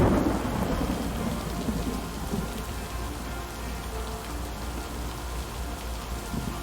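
Steady heavy rain falling at a lake with rolling thunder rumbling low throughout, a dense continuous wash of sound with no voices.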